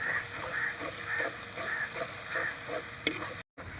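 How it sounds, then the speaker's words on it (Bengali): Chili powder and turmeric sautéing in a pan for a ridge gourd and yoghurt curry: a steady, fairly close oil sizzle with light scraping stirs that pauses briefly near the end. "এবার ভালো করে একটু লঙ্কাটা আর হলুদ গুঁড়োটা দিয়ে একটু ভালো করে কষিয়ে নেব"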